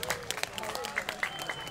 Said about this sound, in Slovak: Povzbuďte samozrejme účastníkov potleskov.